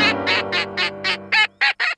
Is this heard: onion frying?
no